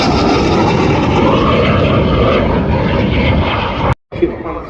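A Harrier jet roars at the RIAT air show, a loud steady broadband rumble with a sudden brief dropout near the end, as a commentator talks over it.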